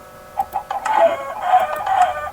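Chickens clucking in the Minecraft video game, a run of short repeated clucks close up over a steady background hum, with no talking.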